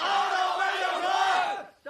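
A large crowd roars and cheers in a sustained, loud wall of many voices at a contest in an animated fantasy drama, fading out at the end before another sound starts.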